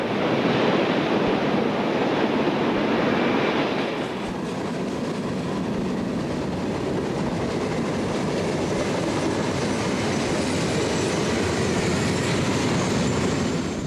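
Long freight train carrying refrigerated boxcars, corn syrup, grain and canned goods, rolling steadily past at close range with a dense, continuous rumble and wheel clatter, a slight shift in tone around four seconds, no voices.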